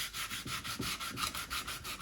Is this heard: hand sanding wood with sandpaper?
yes